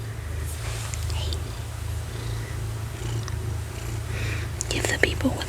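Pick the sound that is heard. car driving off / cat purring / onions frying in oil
cat purring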